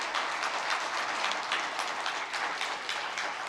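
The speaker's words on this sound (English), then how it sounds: "We don't generally applaud during services, but we're going to now." A congregation applauding during a Chanukah Shabbat service, steady dense clapping from many hands filling the room at moderate loudness, with no speech over it.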